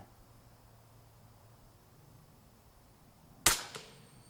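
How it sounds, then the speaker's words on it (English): An FX Impact M3 air rifle with an 800mm barrel fires a single 40 grain Javelin slug. One sharp, loud crack near the end follows a quiet stretch, with a brief faint tail after it. "so now it's time to verify this Impact M3 with the 800mm barrel, and we will be using the Javelin 40 grain slugs"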